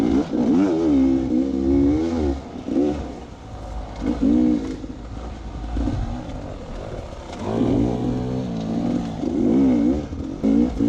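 A motorcycle engine revving and climbing through the gears, a loud, close drone whose pitch rises and drops with each shift.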